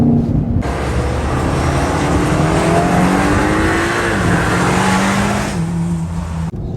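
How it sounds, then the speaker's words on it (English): A 2024 748 hp BMW XM Label under launch control at full throttle, its engine roaring loud and close as revs climb through successive gear changes, with a rising, continuous drone and no speech. "let's now do a launch control of the BMW XM. Let's go. Full throttle."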